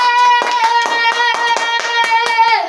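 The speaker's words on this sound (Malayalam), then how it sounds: "കൈയടി" A group claps steadily at a children's Christmas celebration, a quick run of about a dozen sharp, close hand claps that continue without pause and with no talking.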